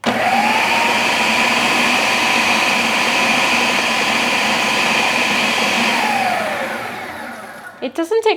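A blender or mixer whirs steadily at close range while blending a liquidy keto hazelnut spread, its motor pitch sliding down as it winds to a stop near the end, followed by a few brief knocks.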